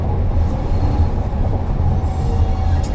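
A train passing in a radio advertisement heard during a car commute, a loud low rumble with rhythmic pulses and faint wheel squeal.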